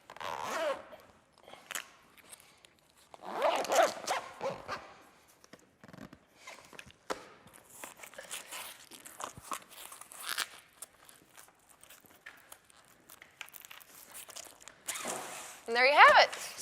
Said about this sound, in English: just to get the zipper started